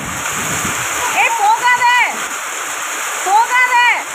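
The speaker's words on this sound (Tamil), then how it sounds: "மழையும் பயங்கரமாக பெஞ்சிட்ருக்கு." Heavy rain pours down in strong wind as a steady, loud broadband wash that runs throughout, while a voice speaks over it.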